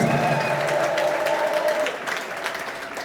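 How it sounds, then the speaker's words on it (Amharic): A church congregation breaks into sustained clapping, a dense crackle of many hands that carries on steadily and tapers slightly toward the end; ululation is not clearly distinct. "እልልታና ጭብጨባ ድብልቅልቅ አድርገው ለእግዚአብሔር ክብር እስቲ"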